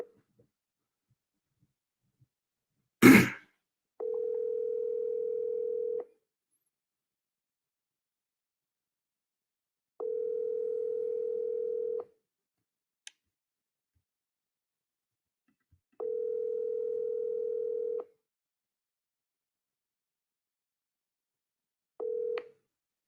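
Outbound telephone call: a sharp click, then a ringback tone in regular two-second pulses with gaps of about four seconds between them, repeated four times, clear and alone over silence.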